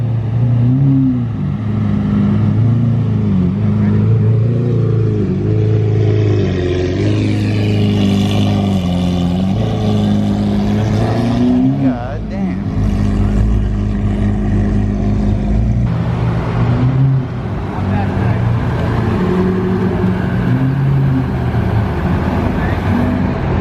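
Porsche 918 Hybrid at a Malibu car show, its engine revving loudly and close by in repeated rising and falling surges with a sustained throaty drone between bursts.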